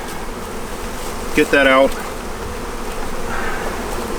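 Honey bees swarm around an abandoned hive as honeycomb is scraped out, a steady close buzz throughout, with a brief burst of speech near the middle.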